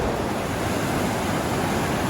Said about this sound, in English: Here we have Continental Rapids Flash Waterfall on the Gila River